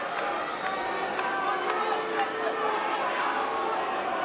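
An arena crowd at a UFC Africa featherweight title fight murmurs and chatters in a dense, steady wash, with occasional louder swells and voices mixed through.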